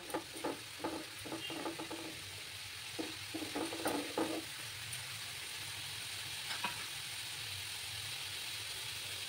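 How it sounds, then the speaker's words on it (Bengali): Onion paste frying in a pan, several stirring scrapes and soft sizzle early on, then a steady background hiss with faint hum, fairly quiet with no talk. "একটু সময় নিয়ে আমি পেঁয়াজ বাটাগুলোকে একটু ফ্রাই করে নেব"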